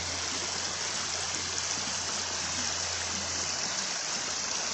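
A river flows on a nature walk as a steady, even rush of water with a broad hiss and a low hum underneath, continuous and moderately distant, with no voices.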